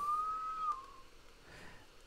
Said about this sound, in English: That's just me whistling